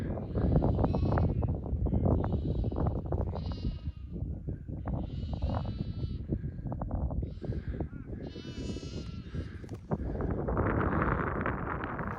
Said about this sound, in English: Got some sheep up here with me.